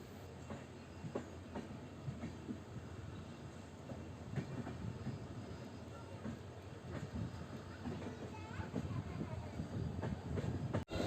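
A passenger train runs on the Hassan to Subramanya line, with a steady rumble and rhythmic clatter of the wheels heard from inside the carriage and faint murmurs of people talking.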